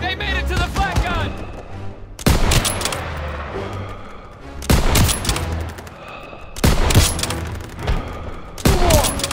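Repeated loud volleys of gunfire in Call of Duty: WWII, four distinct bursts of rapid shooting spaced a couple of seconds apart, with battle noise filling the gaps between them.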